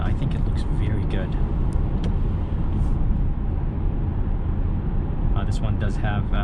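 Inside a 2021 Mercedes-Benz C300 on the move, a constant low road and engine hum carries on while a person talks over it.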